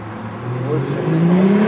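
A turbocharged BMW E30 Touring engine revs steadily upward, its droning pitch climbing and whirring, loud and close throughout.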